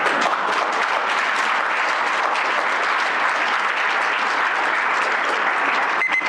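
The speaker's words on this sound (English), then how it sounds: "Let's applaud that." Audience at a Rochester board of education meeting bursts into sustained applause, a thick, even roar of many hands clapping at steady loudness for six seconds.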